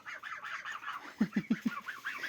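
Geese being fed corn leaves honk in a steady run of nasal calls, with a burst of four sharper, closer honks midway; no talk.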